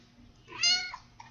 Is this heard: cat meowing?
yes